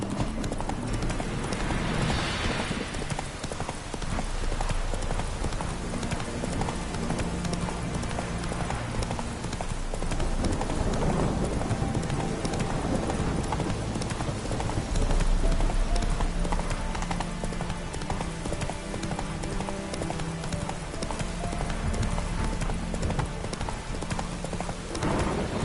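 Horse hooves gallop in a steady, continuous clip-clop rhythm under a game soundtrack in The Witcher 3: Wild Hunt, loud and close throughout, with a brief whinny and occasional faint voice.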